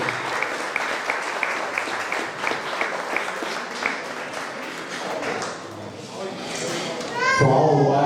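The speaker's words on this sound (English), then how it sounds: "Big round of applause for our new board members." Audience applause for new board members at an organization's gathering, a dense clatter of clapping that runs throughout, fades slightly midway, then swells louder near the end as voices join in.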